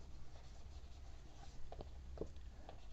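Marker or chalk strokes on a board during a Hindi-language English grammar lesson: a few faint, scattered scratches under steady room hum, with no talking.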